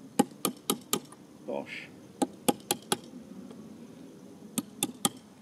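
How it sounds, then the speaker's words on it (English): Pins are punched out of the trigger unit of a Weihrauch HW35 air rifle with a series of sharp, close metallic taps in quick bursts, plus a brief rustle midway, in a quiet room. "next we're going to punch out the two pins that hold in the record trigger unit"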